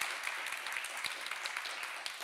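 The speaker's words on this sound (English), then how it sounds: "A big applause." Audience applause after a short presentation, a continuous dense patter of many hands clapping at a moderate distance.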